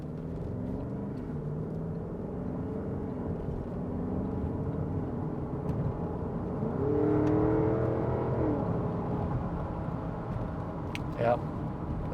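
A 2021 Porsche Cayenne GTS pulls away from inside the cabin, its engine note rising in a steady rumbling whir. A brief higher whine comes near the end, with faint voices in the background.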